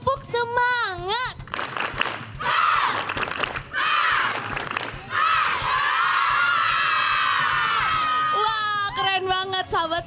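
Schoolchildren at SDN Kebon Jeruk 17 shout and cheer together as a loud, excited crowd, with shrill voices rising in bursts and rhythmic chanting breaking through; clapping is not clearly picked out.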